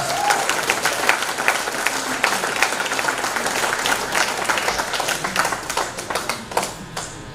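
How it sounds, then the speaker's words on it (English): An audience at a Marcus Garvey roots festival claps in a lively round of applause after performers are saluted, individual sharp claps standing out over the crowd and tapering slightly toward the end. "Let's give them a big round of applause."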